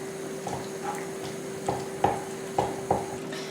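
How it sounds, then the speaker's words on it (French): A spoon stirring ground beef, grated tomato and tomato sauce in a pan, with a few soft scraping knocks against the pan over a faint steady hum, no talking. "Je vais mélanger un peu."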